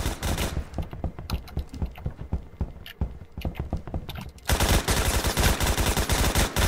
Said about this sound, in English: I like this gun because it's like a nice little rapid fire, and I can get plenty of shots on.